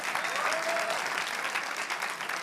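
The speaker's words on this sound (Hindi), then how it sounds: "कंचना यादव जी, राष्ट्रीय प्रवक्ता है आरजेडी की, तालियों के साथ स्वागत कीजिए।" Studio audience applause welcoming a panelist on a Hindi TV debate show about the Bihar elections: continuous, even clapping that holds steady at moderate loudness across the short span.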